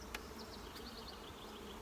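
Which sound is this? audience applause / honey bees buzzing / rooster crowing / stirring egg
honey bees buzzing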